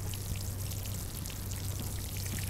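Water pours steadily from a watering can onto flowers in the Roblox video game, a soft continuous splashing stream with a low hum underneath, quiet and unbroken.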